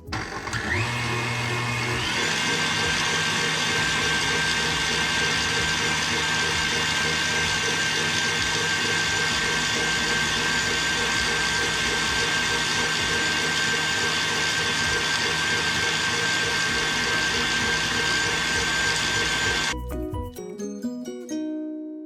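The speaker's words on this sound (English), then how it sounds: "I'm going to slowly pour in 1/4 cup of sugar while it's mixing" An electric mixer whips egg whites for a vegan chocolate mousse while sugar is slowly poured in, a loud steady whirring hum with a shifting motor pitch early on, running about twenty seconds before switching off abruptly.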